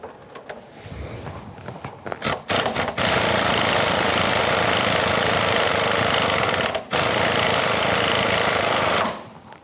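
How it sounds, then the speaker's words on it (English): A pneumatic impact gun drives the harmonic balancer bolt home on a 1997-2006 Jeep Wrangler engine: a few short bursts, then a long, loud, steady hammering rattle that pauses briefly and resumes before stopping. "we're going to use our impact gun and we're going to drive that home until that bolt and harmonic balancer is fully"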